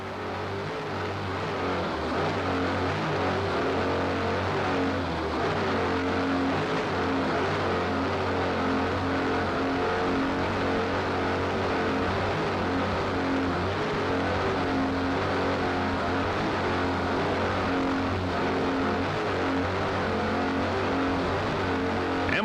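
A steady, loud roar from a pair of 650-horsepower MRD inboard engines powering an offshore racing powerboat at full throttle at Key West, droning continuously with little change for the whole stretch.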